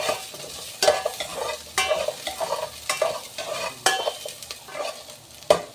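Ginger sautéing in a pan for chicken tinola: close, lively frying sizzle with repeated scraping stirs of a utensil in a loose rhythm, no talking.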